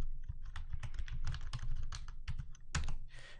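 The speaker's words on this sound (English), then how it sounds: "So I'll type the host name now." Someone types on a computer keyboard in quick, irregular bursts of close, crisp key clicks with short pauses, and no talking.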